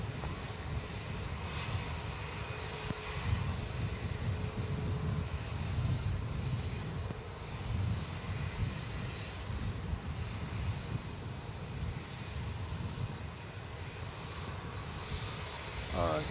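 A Jetstar jet airliner landing on runway 34 at Melbourne Airport gives a steady, broad engine roar that holds for the whole stretch at moderate distance, with a faint voice now and then underneath.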